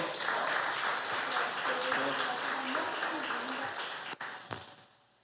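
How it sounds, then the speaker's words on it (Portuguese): A church congregation applauds during a Sunday evening service, broad steady clapping sustained for several seconds before tapering off, with a murmur of voices in the room. "Você pode aplaudir ao Senhor."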